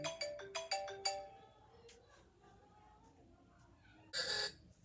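A bright iPhone ringtone plays a quick series of chiming electronic notes at the start, followed by quiet room noise and a short burst of another tone near the end.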